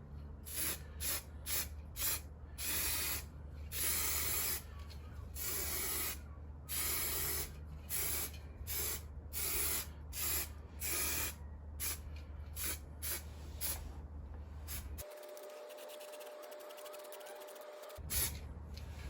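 A thin first coat of paint being sprayed onto a Jeep Patriot, a loud, close hiss broken into many short bursts with gaps, then a long continuous pass.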